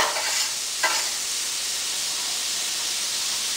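Onions dropped into a pan of melted butter sizzle with a steady, bright hiss, a brief louder burst near the start settling into continuous frying close by.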